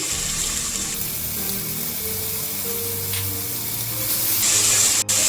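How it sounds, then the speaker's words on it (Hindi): Chopped onions drop into a cup of hot oil in a home kitchen and fry with a steady, even hiss and sizzle that runs throughout, rising slightly near the end, with no talking. "इस ऑयल में ये मैं प्याज फ्राई डाल दूंगी।"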